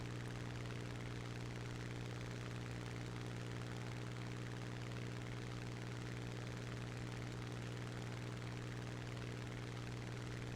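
A propeller fighter plane in the War Thunder combat flight game drones continuously through a wingover maneuver, its engine a steady, loud, unbroken hum with no voices.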